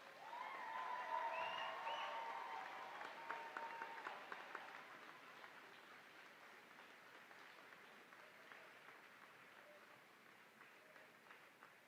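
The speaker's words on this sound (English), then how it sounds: "Why don't we have one more applause for the graduating class of 2026?" Graduates of the 2026 Wabash Valley College class receive applause at their graduation ceremony, heard from a distance as a broad wash of clapping that swells early and then slowly tapers off.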